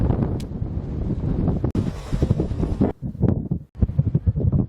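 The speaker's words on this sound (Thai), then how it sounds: "ลมแรงก็ระวังนะโอ้กระโปรงเปิดลมแรง" Strong wind buffets the microphone in heavy, irregular gusts with brief lulls, rumbling loudly throughout on an exposed outdoor spot.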